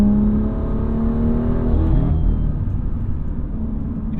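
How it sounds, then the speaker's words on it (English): A turbocharged sports car engine with a bigger turbo builds toward redline, heard as a loud, close, sustained drone with a strained revving tone that shifts pitch as it climbs. "I like how they've tuned the engine with the bigger turbo. Really builds with you towards redline."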